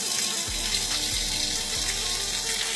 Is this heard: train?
no